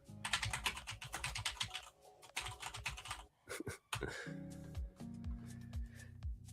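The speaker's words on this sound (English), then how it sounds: "That typing sound, you like my clicky clacky keyboard?" A clicky mechanical computer keyboard is typed on in fast, close bursts of sharp clacks, pausing briefly between runs, with faint background sound beneath.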